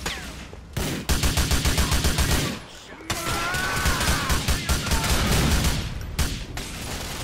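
Rapid bursts of automatic gunfire in GTA IV rattle loudly in quick repeated volleys, with brief pauses between bursts and a voice talking over parts of it.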